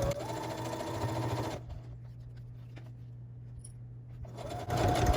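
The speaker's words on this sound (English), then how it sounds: "Keep stitching until we hit that intersection, and then stop with your needle down." A sewing machine stitches fabric for a bow tie quilt block, running in a steady close-up whir that pauses briefly mid-run and then starts up again.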